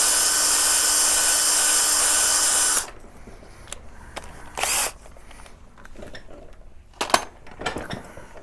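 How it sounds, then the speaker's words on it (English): A power drill spins loudly and steadily for about three seconds while polishing a reloading die for .223/5.56 ammunition, then stops, followed by scattered clicks, taps and small metallic handling noises. "I'll try to not run the drill when I'm talking, but that's how I polish it up"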